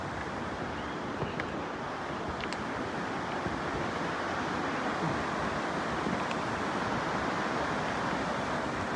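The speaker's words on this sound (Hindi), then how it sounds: "ये पानी आ रहा है बिल्कुल प्योर पहाड़ों से" Pure mountain water rushes steadily near a hot spring trail in Tatapani, Himachal, a dense continuous close roar with no pauses and no talk.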